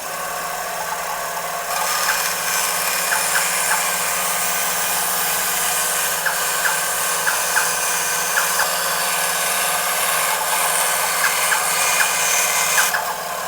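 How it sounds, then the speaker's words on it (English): A benchtop bandsaw cuts wood with a steady, loud whine that runs almost the whole way through, with small ticks and scrapes on top as the piece moves through the blade; no one speaks. "we're going to make that cut on our benchtop bandsaw"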